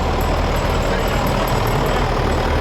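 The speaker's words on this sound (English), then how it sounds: "Everybody enjoys an old John Deere 6410. That's an inline engine tractor." An old John Deere 6410 inline-engine tractor runs at a cotton gin festival, a loud, steady diesel rumble with a broad noisy hiss, continuous and close, with a voice talking over it.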